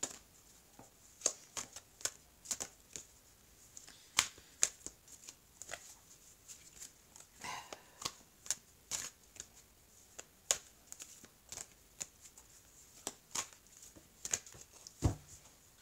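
A deck of oracle cards is shuffled by hand in a quiet room, producing faint, irregular crisp riffles and taps spread over several seconds with short pauses between bursts.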